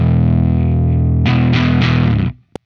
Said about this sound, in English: So here is the clean signal.